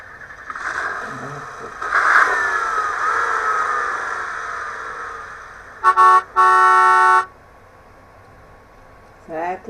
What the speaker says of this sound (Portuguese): O segundo, a buzina do automóvel.